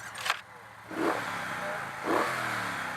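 A Triumph Bonneville Speedmaster motorcycle engine starts and revs twice in strong surges, then settles into a deep, steady rumble close by.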